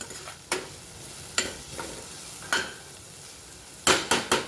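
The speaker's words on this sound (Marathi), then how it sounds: "हा शेपू सुद्धा आपल्याला या मसाल्यामध्ये चांगला भाजून घ्यायचा" Chopped dill leaves roast in spice masala in a pan for a Maharashtrian shepu dal, with a soft sizzle underneath and several sharp scraping stirs of a spatula against the pan, quiet and close.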